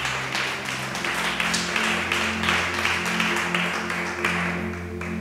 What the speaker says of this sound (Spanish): Pues dale ese aplauso al Rey.